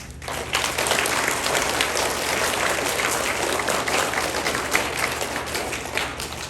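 A crowd applauds and cheers loudly at a fifth grade DARE graduation, a dense continuous roar of clapping and voices lasting throughout.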